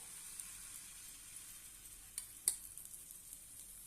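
Besan poli, a gram flour flatbread, sizzles on an oiled pan with a faint, continuous hiss and a couple of soft pops near the middle.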